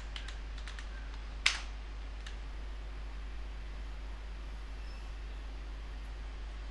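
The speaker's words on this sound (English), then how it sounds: "you can type the command .symfix." A few quick keystrokes on a computer keyboard, one sharper key press standing out, faint and close over a steady low electrical hum, with no talking.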